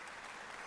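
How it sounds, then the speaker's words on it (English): Applause alert sound on a live drawing stream, a short burst of dense clapping lasting under a second, fairly faint and steady throughout. "Hey, we got some applause"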